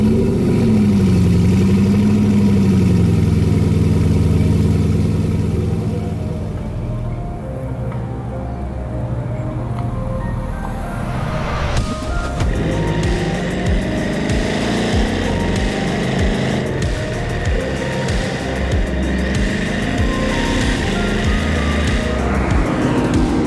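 Bugatti Chiron with 1500 horsepower starting up: a deep engine note settles into a loud, rumbling idle, steady and close, with no talking over it.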